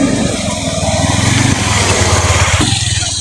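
A motorcycle engine runs close by with a steady, rough idle-like chug and shifts its tone partway through. Faint voices sit beneath it.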